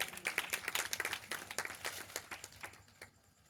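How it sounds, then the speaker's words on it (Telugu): An audience at a church gathering applauds, a brief burst of dense clapping that swells quickly and then tapers away into near quiet. "అన్న మీద చప్పట్లు పెట్టుకోండి."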